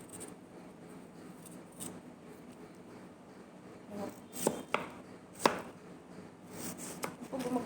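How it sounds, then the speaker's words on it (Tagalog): A knife chops ingredients for a simple home-made salad on a board in quick, soft taps, with a few sharper strikes near the end and no voices. "gumagawa po ako ng salad po ito"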